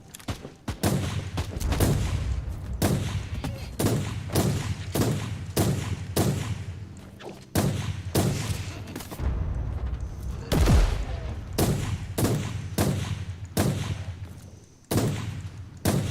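Repeated gunshots from a weapon firing cleansing shots in the video game Inquisitor: Martyr, loud booming blasts with heavy low thumps arriving in an irregular rapid series, each sharp crack followed by a short rumbling decay, with no talking.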